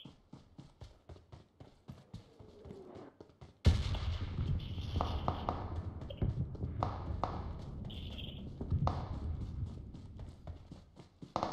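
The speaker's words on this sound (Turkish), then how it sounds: "Bir silah sesi tutmuştu." A gunshot in the video game PUBG: a sudden loud blast cuts in after a run of soft rhythmic footstep-like taps, followed by scattered clicks and game noise at moderate level.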